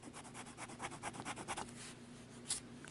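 Levenger Facet Onyx fountain pen with a medium nib and wet-flowing teal ink writing on paper, soft quick scratchy strokes in an uneven rhythm, very faint and close, with no talk.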